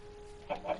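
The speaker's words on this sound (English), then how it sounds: "Chickens! Haha, feathers." A Minecraft chicken gives two short clucks close together near the end, after a stretch of quiet game ambience with a steady faint hum underneath.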